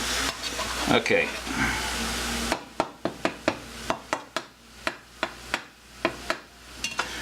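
Frozen meat browning in a pan: a broad sizzle and stirring noise for the first few seconds, then a run of sharp scraping and tapping strokes at a steady rhythm, with a brief spoken word near the start.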